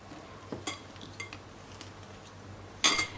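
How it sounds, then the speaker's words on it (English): Whisk clinking and scraping against a bowl while mixing chocolate zucchini bread batter with cocoa powder, a few sharp close taps over soft stirring, ending in a brighter metallic clatter. "and still using the whisk. Make sure that you combine them really well"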